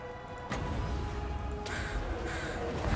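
Crows from the Flock of Doom unit in the Total War: Warhammer II battle game caw harshly in several overlapping calls over a steady battle din, moderately close.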